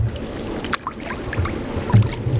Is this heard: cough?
no